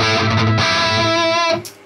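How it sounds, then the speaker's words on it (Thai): A boosted guitar amp pushed into distortion by a Fishbone Sun&Moon dual overdrive pedal rings out as a loud, sustained, saturated chord that cuts off abruptly near the end. "อันนี้เสียงแตกตู้จะเป็นประมาณนี"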